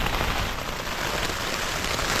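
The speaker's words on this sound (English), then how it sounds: "Epic rainstorm" Heavy rain drums steadily on a tent during a wild Arctic canyon storm, a dense, close, unbroken hiss and patter that fills the whole stretch with no voices.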